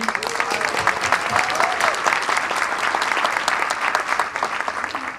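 An audience at the closing ceremony of the Havana Film Festival in New York applauds steadily, a dense wash of clapping sustained throughout at an even, fairly loud level, with some voices faintly mixed in.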